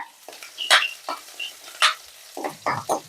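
A green chilli sizzling in hot tempering oil for tomato pepper rasam, with bursts of crackling and spitting over a few seconds, close up.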